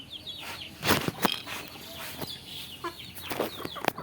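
Desi chickens and chicks cluck and peep nearby while feeding on rice in a yard, with scattered bright calls and some shuffling steps; no voices.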